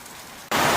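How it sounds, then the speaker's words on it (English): Rain hisses steadily, then suddenly grows much louder and denser, a close, heavy downpour rushing without pause. "What a rain has started."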